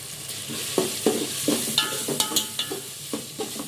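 Tomatoes with turmeric and ginger paste cooking in a pan for Rayalaseema ugganichi, stirred with a spoon that scrapes in regular strokes over a steady soft sizzle, close by, no talking.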